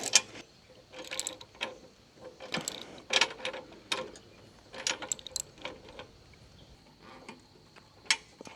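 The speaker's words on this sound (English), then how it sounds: "So a raggedy ratchet." A worn, sloppy ratchet wrench clicks irregularly during tiller assembly, uneven bursts of sharp close ticks separated by short gaps, with some clanking of metal parts.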